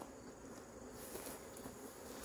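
Honey bees swarming over a hive frame pulled from a backyard apiary, a dense, faint, continuous buzzing hum close by, with no talking.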